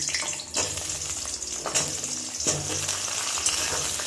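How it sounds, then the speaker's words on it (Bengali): Sliced onions fry on a high flame in a pan for a chicken dish, a loud steady sizzle with occasional clinks and scrapes of stirring, no voices. "প্রথমে স্লাইস করে রাখা পেঁয়াজগুলোকে ভেজে নিচ্ছি হাই ফ্লেমে"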